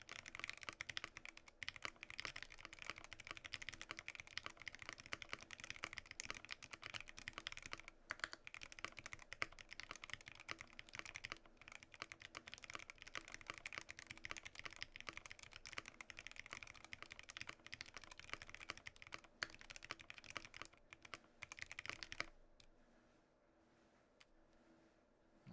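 Rapid clacking keystrokes on an Iron 165 SE mechanical keyboard fitted with NK Yellow Silk linear switches, a dense, steady typing run up close that stops abruptly near the end, leaving near silence.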